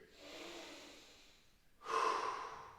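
Deep belly breathing in a dead bug position, a soft drawn-out inhale followed by a stronger, louder exhale, close and quiet; no voices.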